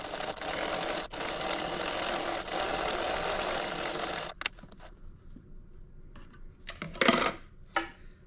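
A sewing machine stitches a zipper onto a small fabric wristlet, running as a continuous close mechanical whir for about four seconds, then stopping, followed by a few soft clicks and handling noises.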